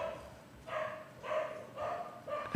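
Dogs barking in the distance during a town hall public meeting, a few spaced, muffled barks over a steady room background, with no speech.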